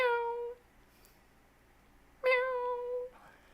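Cat meow alert sound on a livestream plays twice: a short clear meow, a pause of almost two seconds, then a longer, louder meow, with faint room noise in between.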